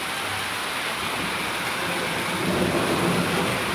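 A sudden hailstorm with heavy rain hisses steadily on surfaces, with a low rumble of thunder underneath and no voices heard.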